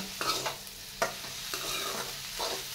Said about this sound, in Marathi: आता हे सर्व मिक्स करून झालं की याच्यावर झाकण ठेवायचं आहे